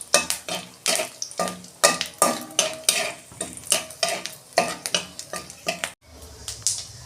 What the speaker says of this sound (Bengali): এই যে 5 ফোড়ন দিচ্ছি